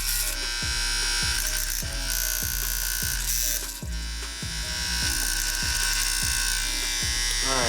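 Vintage 1964 Andis Master hair clippers running with a loud, steady buzzing hum, punctuated by regular rattling clicks, close up.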